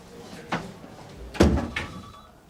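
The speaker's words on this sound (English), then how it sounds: "Shut the door." A door is pushed shut in a police station office, a sharp thud in the middle of the clip with smaller knocks and handling sounds before and after it, close and moderately loud.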